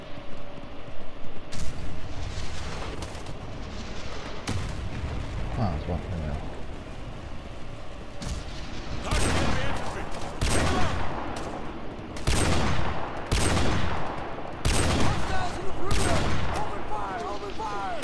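Gunfire in a war shooter game played on veteran difficulty: sustained bursts of rifle and machine-gun fire crackle continuously, with louder volleys rising near the end over a dense battle background.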